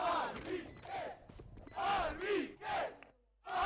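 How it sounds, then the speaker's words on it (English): An esports arena crowd at a Valorant Challengers playoff match chants a player's name in rhythmic, loud unison, the repeated two-beat shout rising and falling several times before a brief pause. "And you can see the chants too in the crowd."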